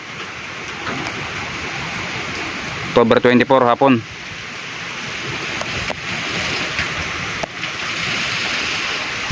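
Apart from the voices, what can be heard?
strong wind with heavy rain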